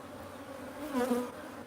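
A honey bee swarm hums in a low, steady drone that swells louder for a moment near the middle, then settles back to a softer buzz, with no voices.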